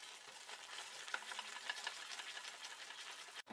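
Thick jaggery syrup bubbles and is stirred continuously in a pan while being cooked down for peanut chikki, giving a steady, soft, close-up simmering rasp with faint scraping and no voices.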